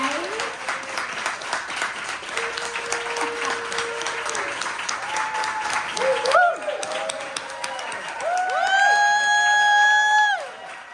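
Applause and cheering ring out for student artists at an East Harlem Tutorial Program art celebration, mixed with whoops and high children's shouts, and a tonal melody or squeal rises loudly near the end.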